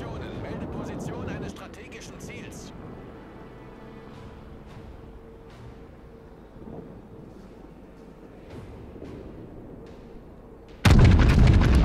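Main guns of the Yamato battleship in the naval combat game World of Warships, with someone talking in German over distant rumbling gameplay until a sudden, heavy, loud cannon blast at the end.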